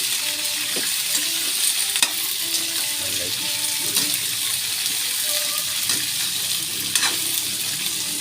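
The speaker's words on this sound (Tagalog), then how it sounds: "Igisa natin yung gulay guys." Vegetables sauté in a hot pan, a steady loud sizzle with occasional stirring scrapes and clinks of the utensil, no talking.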